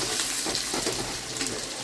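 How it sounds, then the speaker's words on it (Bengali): Onions fry in a pan until reddish-brown, the first step of a Bombay duck (lote fish) dish: a steady, close crackling sizzle that runs unbroken for under two seconds, with no voices. "পেঁয়াজটা ভালো করে লাল করে ভাজি"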